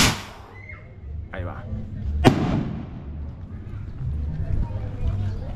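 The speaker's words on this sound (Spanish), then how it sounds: "Aquí viendo los cohetes." Firework rockets go off during a religious procession closing the Sacred Heart novena in Atacheo, Michoacán: a whistling launch, then a sharp loud bang with echoing crackle amid crowd noise and people talking.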